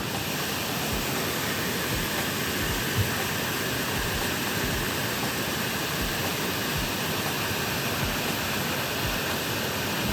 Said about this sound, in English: But check out this river.